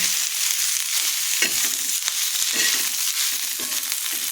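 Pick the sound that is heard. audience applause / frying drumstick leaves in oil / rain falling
frying drumstick leaves in oil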